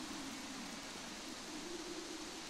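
Steady, even Minecraft rain hisses without a break, soft and diffuse with a faint low hum underneath, and no voices.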